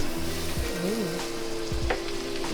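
Butter sizzles steadily in a hot pan, a continuous close frying hiss with a few soft clinks and scrapes over it.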